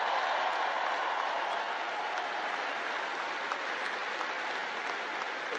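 Large crowd applauding steadily at a university graduation ceremony, a dense, sustained wash of clapping that stays loud and even throughout with no voices on top.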